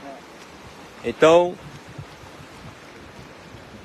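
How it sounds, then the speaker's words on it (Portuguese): Water spills over the spillway wall of the Araras reservoir in Varjota, Ceará, as a steady, even rush of noise, and a voice briefly says a word partway through. "é muita água já descendo aqui do Açu de Araras, transbordando aqui, derramando aqui pela parede do sangrador do açude"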